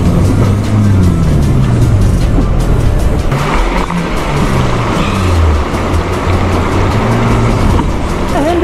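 A car stuck in the ground at Hanle, Ladakh, its engine revving hard with loud, sustained, rising and falling strain and wheel noise, continuous throughout.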